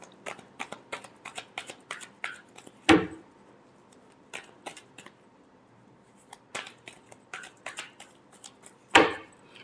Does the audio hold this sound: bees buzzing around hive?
no